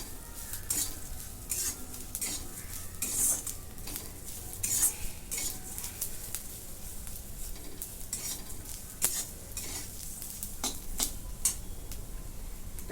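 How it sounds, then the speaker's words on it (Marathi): Coriander, sesame and spices sauté in a pan for a chicken curry, with a steady close sizzle and repeated scraping, clinking stirs of a utensil against the metal throughout. "आता ही पण दोन मिनटं परतून घेते"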